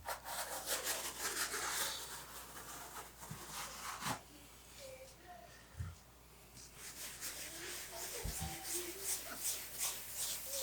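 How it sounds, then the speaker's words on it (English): Excess grout being scrubbed off freshly laid bathroom floor tiles, a steady close rubbing and wiping with a few sharp knocks mixed in, running continuously without talk. "Let's get a little bit more of that excess grout off."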